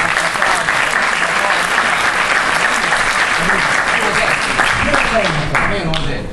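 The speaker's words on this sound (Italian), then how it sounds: "Un altro applauso." A studio audience at a show finale claps in loud, dense, sustained applause, with voices talking and calling out over it throughout.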